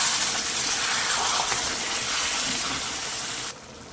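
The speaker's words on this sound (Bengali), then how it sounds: "এরপর দিয়ে দেবো অল্প করে একটু জল" Water gushes steadily into a cooking pot of bottle gourd and shrimp curry, a close, continuous pour that stops abruptly near the end.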